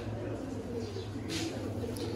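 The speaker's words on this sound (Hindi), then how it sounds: "मोहसन भाई, ये जो कबूतर है ना, ये वाला, ये पर्सनल" Cooing of a crossbred pigeon kept by a fancier, low soft coos repeating under someone talking, with steady background hum and a brief brighter rustle partway through.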